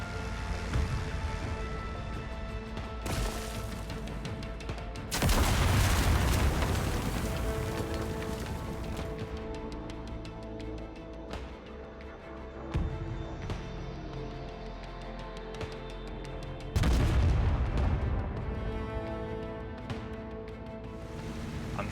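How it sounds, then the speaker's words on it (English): Bombs exploding in the IL-2 Korea combat flight game, 500-pound bombs hitting a bunker with secondary blasts: a continuous heavy rumble with several loud booming bursts over a dense background din, no talking. "Ooh, okay, and we got a secondary explosion."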